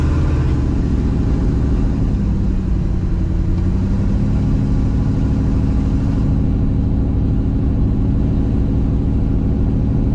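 A car engine running rich on too much fuel, roaring loud and close in a steady, heavy rumble as the revs swell and ease slightly, with no talk over it.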